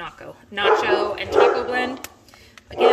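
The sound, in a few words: dogs barking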